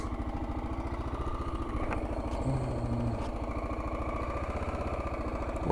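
A motorcycle engine runs with a steady, even rumble and rapid regular firing pulses, fairly close and continuous throughout, with no voices.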